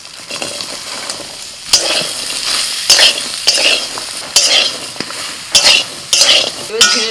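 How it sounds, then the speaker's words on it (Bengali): Ridge gourd fries in leftover oil in a wok, a steady close sizzle broken by repeated sharp scrapes and clacks of a spatula stirring against the pan, with no talking. "কড়াইতে যেটুকুন তেল আছে ওর মধ্যে দিয়ে দিচ্ছি ঝিঙে।"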